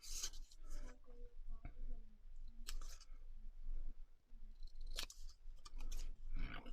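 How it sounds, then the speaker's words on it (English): Huge scissors cut quickly through paper in fast fussy cutting, close-up snips and rasping slices that repeat irregularly over a low background rumble. "Let's do some speed fussy cutting with huge scissors."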